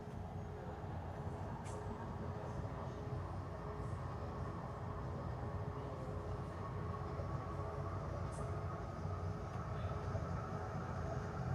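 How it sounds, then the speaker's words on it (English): An Ottawa O-Train light rail car departs Bayshore station, its steady rumble and rolling noise heard from inside the cab, with faint higher squeals now and then and no talk. "Okay, so we're departing now from Bayshore."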